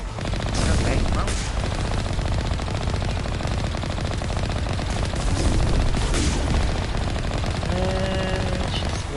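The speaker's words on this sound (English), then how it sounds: "There's somebody shooting for me from behind here." Rapid automatic gunfire rattles almost nonstop in a Mass Effect Legendary Edition battle, loud and close, with bursts and a low booming undertone throughout.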